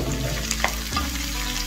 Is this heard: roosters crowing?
no